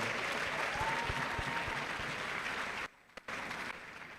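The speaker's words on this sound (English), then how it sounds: "Please give him another round of applause" Audience applause for a guest lecturer at a swearing-in ceremony for foreign-trained medical and dental graduates, a full steady clapping crowd that cuts out abruptly near the end, then resumes briefly.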